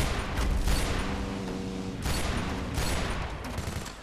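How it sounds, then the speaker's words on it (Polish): Bursts of rapid gunfire in Battlefield Heroes, three clustered volleys separated by brief pauses, with mechanical clatter. "Jeszcze jeden strzał."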